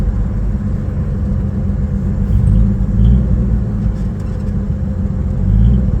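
A 1956 Chevy 210's old engine idles with a deep, steady rumble close by, its low throb swelling slightly a few times, no voices heard.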